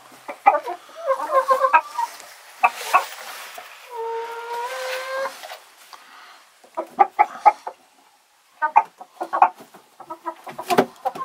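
Polish rooster and hens cluck and call close by in a quiet setting, a run of short staccato clucks followed by a sustained tonal call, then scattered bursts of clucking with brief silences between.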